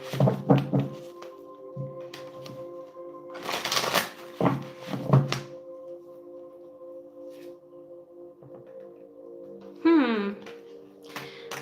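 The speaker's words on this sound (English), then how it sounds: "Right, one more shuffle." Cards are shuffled close up in a few quick riffling bursts, separated by pauses with a low steady hum and a brief squeaky tone.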